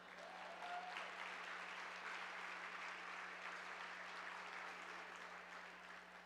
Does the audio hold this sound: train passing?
no